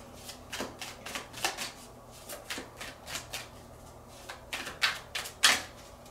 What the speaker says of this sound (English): one more tarot card to go with this.